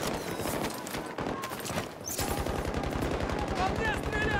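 Rapid gunfire rings out from all sides in Battlefield 2042, continuous automatic bursts and cracks mixed with shouted voices in the heat of battle.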